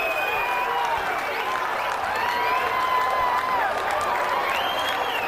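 A packed arena crowd at the WEC 5 Halloween Havoc mixed martial arts event in Fresno, 2002, roars and applauds continuously, with rising whoops and whistles cutting through the sustained wash of cheering.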